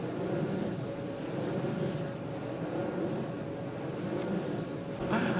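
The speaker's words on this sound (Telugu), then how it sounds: "ఫస్ట్ టైం నాకు ఇంత దగ్గర నుండి ఆ ఫ్యాన్ సౌండ్ ఎంత ఫాస్ట్గా తిరుగుతుంది ఇది" A wind turbine seen from close range, its blades spinning fast, gives off a steady, continuous whooshing roar mixed with outdoor wind noise, with no one talking.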